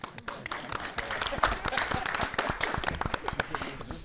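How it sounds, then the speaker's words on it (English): Audience applause greets panelists being introduced at a town hall panel discussion, a steady crackle of many hands clapping throughout in a hall. "You can clap."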